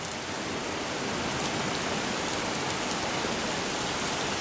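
Fairly heavy rain pours down with little wind, a dense, unbroken hiss of drops close by and steady in loudness throughout, with no one speaking.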